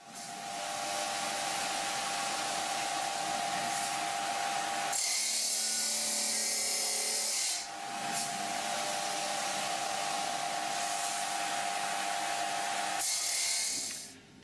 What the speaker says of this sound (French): On utilise pour cela une scie à roche, donc c'est une lame au diamant donc qui va servir à couper l'échantillon